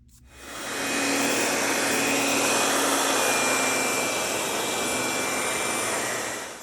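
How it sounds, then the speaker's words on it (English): A hair dryer blows on leather to dry the antiquing on a tooled leather piece. It switches on with a quick ramp-up, then gives a loud, steady airy roar close by until it tails off at the end. "I just used a little bit of a blow dryer to sort of speed that up a bit."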